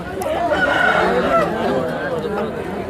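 Country chickens at a busy poultry market, with a rooster crowing and hens clucking amid steady crowd chatter, fairly loud and close throughout.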